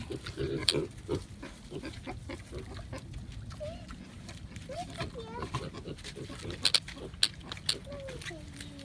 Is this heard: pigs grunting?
yes